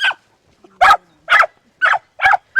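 A dog barks five times in a row, each bark sharp and loud from close by, with short quiet gaps between them.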